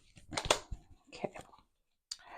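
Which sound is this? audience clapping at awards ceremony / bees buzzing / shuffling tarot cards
shuffling tarot cards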